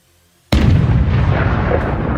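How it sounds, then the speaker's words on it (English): A HIMARS launcher fires a missile at an artillery target, a sudden loud blast after near silence followed by a sustained roaring rush that stays strong to the end. "HIMARS shoots the second missile to target yet another artillery system."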